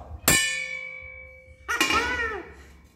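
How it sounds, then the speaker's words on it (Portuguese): A metal motorcycle wheel rim is struck twice, each hit ringing out with a long bright bell-like tone that slowly decays; the second strike sounds rougher and more clanging. "Esse daqui, o barulhozinho de sino de igreja é o melhor."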